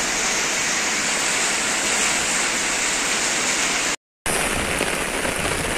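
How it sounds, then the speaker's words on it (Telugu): Heavy rain pours down in Hyderabad, a dense, steady, close hiss of downpour that runs unbroken apart from one brief dropout. "హైదరాబాద్లో భారీ వర్షం పడుతుంది"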